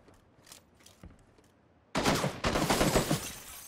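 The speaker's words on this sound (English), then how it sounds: "I'm being shot at." Gunfire in PlayerUnknown's Battlegrounds: after two seconds of near quiet with faint pops, a loud burst of rapid shots erupts and continues as a dense, rattling fusillade.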